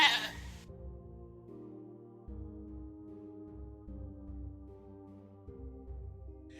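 A goat-bleat alert sound plays on a livestream when channel points are redeemed, giving a run of sustained, wavering bleating tones that shift pitch in steps over several seconds at moderate volume, with no talking.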